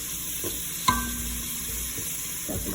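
Garlic and onion sautéing in a pan give a soft, continuous sizzle with a sharp clink of a utensil against the pan near the start and a few faint stirring scrapes after.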